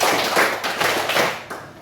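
A class of students claps a rhythmic pattern together, several quick overlapping bursts of many hands in a short, loud, lively run.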